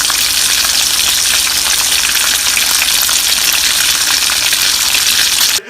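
Salmon sizzles and spits steadily in a hot stainless steel pan, a loud, dense frying hiss that holds unbroken until it stops abruptly at the end.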